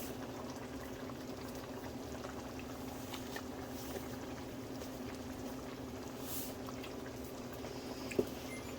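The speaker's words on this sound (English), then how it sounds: "If you're wondering what's cooking in the back, that is Czech dumplings" Czech dumplings cooking in a pot in the background, a quiet continuous bubbling and simmering of water with one brief knock near the end.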